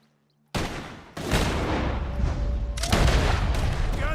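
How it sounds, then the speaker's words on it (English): Gunfire rings out from a barn in Red Dead Redemption 2, a sudden loud blast after silence followed by a dense, sustained roar of overlapping shots and rumbling reports, with no one speaking. "Guns are coming from that barn."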